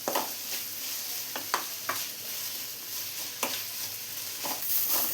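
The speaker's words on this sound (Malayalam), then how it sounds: "ഇനി ഇതെല്ലാം കൂടി നന്നായി തന്നെ ഒന്ന് വഴറ്റിയെടുക്കാം" Onion, green chilies and curry leaves fry in a pan with a continuous sizzle and several sharp scraping stirs, close up and without speech.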